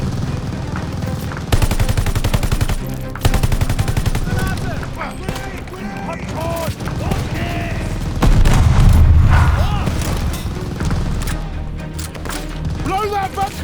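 Machine gun fire in Call of Duty: Vanguard rattles in rapid bursts amid battlefield noise and booms, with shouted voices over the shooting.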